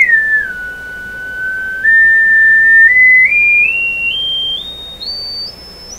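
A pure, shrill electronic tone plays from an Airline tabletop radio being tested. It starts around mid pitch, dips, then climbs upward in distinct steps, loud and steady with no talking.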